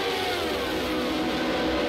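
A Ford Cosworth race car engine in a racing game at Monza revs hard and continuously at close range, a dense high-pitched mechanical howl with no breaks.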